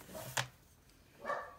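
Two short dog barks, one sharp and loud, then a second a second later, slightly muffled as if from another room.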